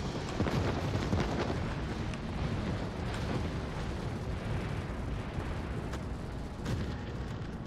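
Rumbling booms and blasts from a naval battle video game, with torpedoes striking the battleship Bismarck, thunder on in a dense, continuous roar with repeated sharper bursts throughout.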